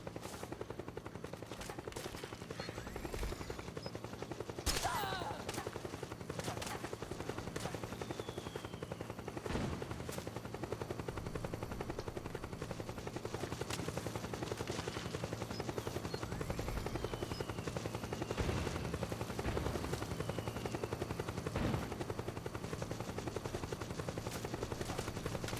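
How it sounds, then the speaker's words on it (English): A helicopter in the video game Metal Gear Solid 4 drones steadily throughout, with scattered gunfire and bursts of machine-gun fire cracking over the rotor noise, and no voices. "Oh, that's a helicopter."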